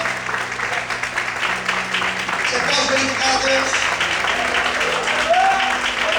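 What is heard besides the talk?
church congregation applause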